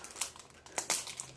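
Crinkling, tearing plastic wrap as a plastic-wrapped Easter surprise egg is bitten open, with a few sharp bursts of crumpling close up.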